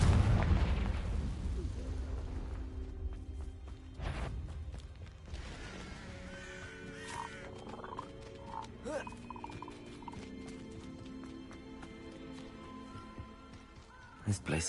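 A Confringo explosive spell in Hogwarts Legacy bursts with a loud, deep boom at the start, trailing into rumbling debris, with scattered smaller pops and game music afterward.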